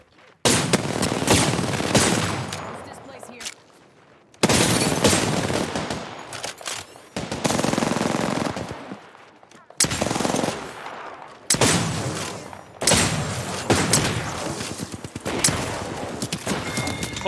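Sustained bursts of rapid automatic gunfire from the video game Apex Legends, several long volleys separated by short pauses, loud and dense with overlapping shots.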